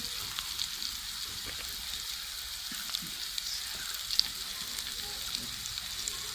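Spices sizzling in hot oil for a moringa root curry, a steady bright crackling fry with small pops, close and continuous.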